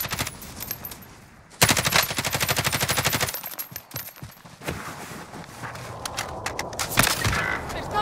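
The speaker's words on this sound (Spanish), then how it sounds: "¡Están disparando!" Rapid machine-gun bursts and single gunshots crackle in a video game firefight, with a long sustained volley near the start and sharp scattered shots after it, while players talk over the action.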